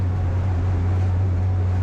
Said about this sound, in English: that horrible grinding noise you can hear, that's just the litres of water being flung through the wheel arches